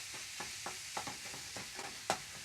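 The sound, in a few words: curry ground meat browning in a pan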